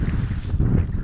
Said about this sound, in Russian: Подул южный ветер